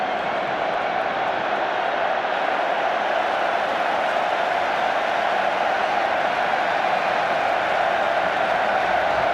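Steady, dense crowd roar fills a football stadium during an international friendly between Spain and England, a continuous wash of massed voices holding at an even level throughout with no single voice standing out.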